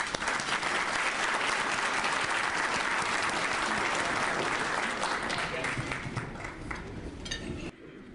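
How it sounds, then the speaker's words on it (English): Sustained applause from an audience at an employee recognition luncheon, dense steady clapping filling the room and tapering slightly before cutting off near the end. "And now we can give a big round of applause."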